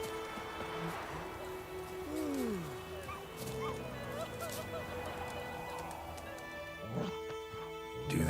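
In The Witcher 3 video game, a dog whimpers and yips softly in a few high, sliding whines, quiet beneath game ambience and voices speaking.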